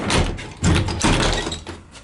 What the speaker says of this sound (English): Yeah, to shut that door.